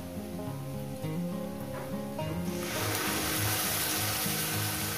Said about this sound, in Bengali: এইবার দিয়ে দেবো মশলাটা।